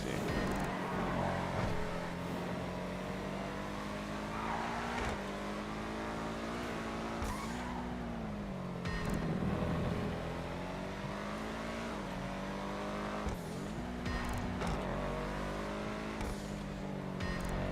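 A safety car engine in GTA during an F1 United States GP race hums and revs continuously, pitch rising and falling through gear changes, with occasional tire noise, fairly quiet and steady.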